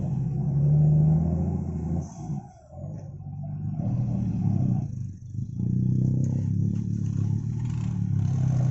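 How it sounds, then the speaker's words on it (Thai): Two small farm tractors with diesel engines labour up a slippery slope, their engines revving and rumbling close by with a steady low drone that dips briefly and surges again. "โอ้ รถไถเล็กสองคันครับ"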